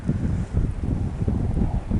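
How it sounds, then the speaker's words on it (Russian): Strong wind gusting outdoors by a lakeshore during a pike fishing trip, a low rumbling buffeting against the microphone in uneven surges, loud and close. "Ветер сильный поднялся"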